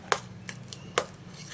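Dahi vada batter is beaten in a mixer jar with a spoon. A few sharp, fairly quiet clinks and taps of metal against the container ring out close by, with no talk.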